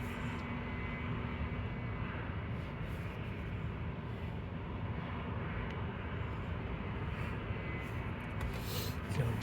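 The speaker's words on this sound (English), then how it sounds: "No, that's a citation. The private jet's a citation. It's a Cessna citation." A distant Cessna Citation private jet at Toronto Pearson airport gives off a steady, faint engine roar and rumble, continuous and low for several seconds with no talking.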